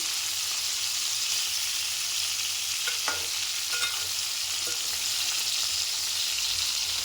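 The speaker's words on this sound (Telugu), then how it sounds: "చూడండి మనం వంకాయలు ఎలా ఫ్రై అవుతున్నాయో వీటిని మెల్లగా కలుపుకోవాలండి" Brinjals frying in a pan for a stuffed brinjal masala curry, a dense, steady sizzle with a few soft stirring scrapes near the middle, close and continuous without speech.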